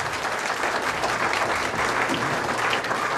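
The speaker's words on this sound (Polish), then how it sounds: "Brawa dla niej, Agnieszka Robak!" An audience at a regional Miss Polonia beauty pageant claps steadily for a contestant, with dense, continuous applause throughout.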